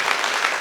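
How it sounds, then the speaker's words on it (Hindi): Audience applause in a temple hall during a Jain foundation-laying ceremony: a brief, even wash of many hands clapping. "सदन में ताली दोनों हाथ ऊंचे करके गुंजायमान होनी चाहिए"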